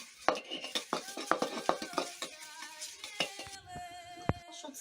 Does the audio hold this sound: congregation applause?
no